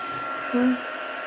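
A heat gun blows hot air onto canvas with a steady, close, breathy whoosh and a brief tonal rise near the middle. It is heard alone, with no talking.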